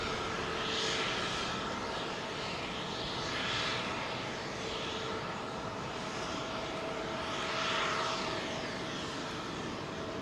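A Boeing 787-8 Dreamliner jet at London Heathrow gives a loud, sustained engine roar that swells and fades in slow waves, heard from a moderate distance with no talking.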